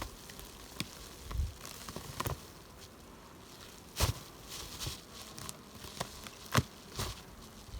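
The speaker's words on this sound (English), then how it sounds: "lots of bees up top." Bees around a hive at the top, scattered close buzzing passes and brief bursts over a quiet background, with light crinkling and tapping from handling the hive.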